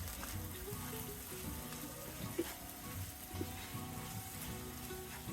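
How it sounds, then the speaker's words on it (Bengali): Onions sizzling with ginger-garlic paste and salt in a pan, a faint, even fry with soft scattered clicks, no voices. "দিয়ে আমি ভালো করে কষিয়ে নেব কিছুক্ষণ"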